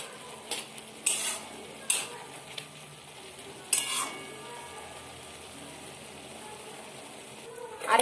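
Maggi noodle filling for veg spring rolls being stirred in a pan as its water cooks off, with a few sharp spoon scrapes and clinks over a faint, steady sizzle.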